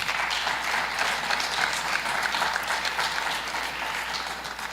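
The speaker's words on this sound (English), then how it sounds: "Let us give a round of applause to our honorees" Sustained applause from an audience at an evening honors event, many hands clapping at moderate volume in a continuous wash that tapers slightly toward the end.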